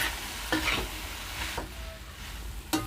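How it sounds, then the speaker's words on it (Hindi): Potatoes and capsicum sizzle steadily in a frying pan for aloo shimla mirch sabzi, with three brief scraping stirs of the spoon cutting through the continuous frying hiss; no one speaks. "अच्छे से मिक्स करेंगे"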